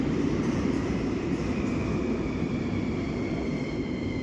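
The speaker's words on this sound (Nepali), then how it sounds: "रेल आयो है।" A Bucharest metro train pulls into an underground station with a loud, sustained rumble and rising mechanical whine, heard close and steady with no talk over it.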